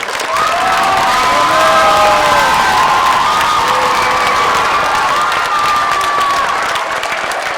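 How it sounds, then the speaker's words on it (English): A large crowd of students applauds and cheers loudly at a school Berlin Wall celebration, a dense sustained wash of clapping with shouts and whoops rising over it throughout. "Can we hear one more round of applause for everything?"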